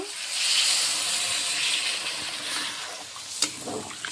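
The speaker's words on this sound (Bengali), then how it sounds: "ভাজা হয়ে গেল, এখন অল্প জল দিয়ে দিব।" Water is poured into a pan of frying country chicken curry with potatoes, setting off a loud, steady steamy hiss and sizzle that slowly eases, with a sharp clink near the end.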